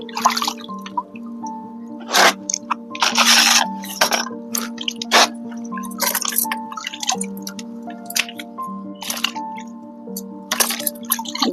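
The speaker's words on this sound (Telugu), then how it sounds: "మళ్ళీ ఇంకా ఫ్రెష్ వాటర్తో మళ్ళీ కడుక్కోవాలి" Freshly harvested turmeric from a terrace garden being rinsed in fresh water, with close drips, splashes and wet squishing in an irregular rhythm, fairly loud, with no talk.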